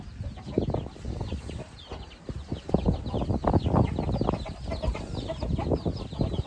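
Hens move around a house, with close, busy clucking and scratchy rustling that rise and fall over a noisy background.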